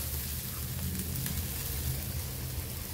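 Onions fry in a pan with a steady, close sizzle as tomato goes in for a paneer masala, a continuous crackling hiss with no voices.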